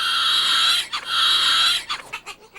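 Two children mimic a pig with their voices, one long nasal squeal followed by a second and then a run of short grunting snorts, close and clear with no other sounds.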